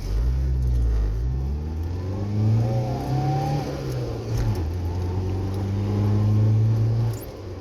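A Lada Samara pulling away in first gear, its mid-pitched engine droning and rising in revs with audible gear changes, loud and close throughout and with no talking.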